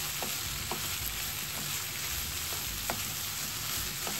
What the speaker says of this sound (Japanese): これでご飯と、具材を混ぜながら、チキンライスとして完成させていくわけです。